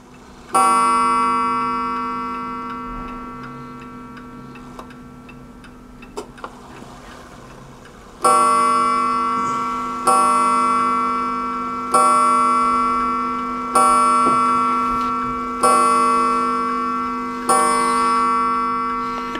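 Vintage Seth Thomas mechanical clock striking its hourly chime, a run of ringing metallic strikes with long decaying tones, loud and close, with faint ticking beneath and no talk.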